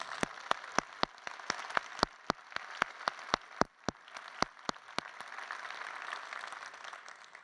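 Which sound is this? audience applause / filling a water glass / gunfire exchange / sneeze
audience applause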